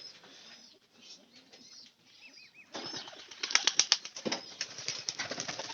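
Pigeons near a large tree burst into flapping wingbeats, quiet rustling at first, then a loud, fast series of wing claps up close, with a faint chirp or two.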